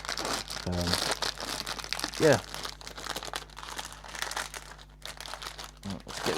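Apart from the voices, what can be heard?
plastic bag crinkling as model kit is unwrapped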